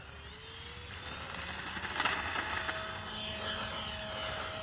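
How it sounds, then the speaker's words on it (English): An X-Fly P-68 small twin-motor RC plane taking off, a thin high electric whine rising and drifting as it climbs away at moderate distance, with outdoor background noise. "Nice little plane, nice takeoff there."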